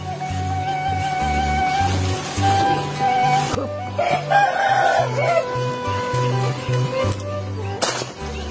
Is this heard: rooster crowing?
yes